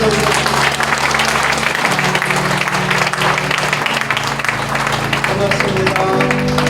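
Congregation at a Korean church pastor's installation service applauds loudly and continuously, dense clapping over a sustained musical drone and background crowd noise.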